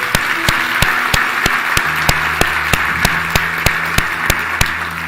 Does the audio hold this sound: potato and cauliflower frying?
no